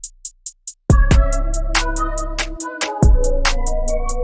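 A beat runs as crisp ticking hi-hats in a basic two-step pattern over a booming bass and synth chords that drop out briefly before slamming back in.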